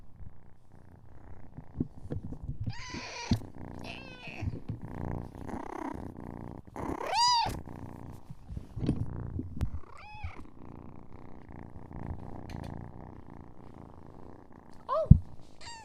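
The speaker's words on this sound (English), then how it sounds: "He's got some big purrs." A kitten purring steadily and close, a low continuous rumble broken by a few short high mewing calls and small movements.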